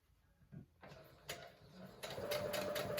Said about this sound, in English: So I'm going to sew about 1 inch away from the corner.